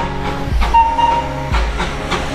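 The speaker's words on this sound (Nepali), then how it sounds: "ट्रेन आउँदैछ हो, टोय ट्रेन" A toy train runs on the narrow-gauge rails between Kurseong and Maneybhanjang, a loud, close rumble with heavy wheel thumps on the rail joints and a faint hiss.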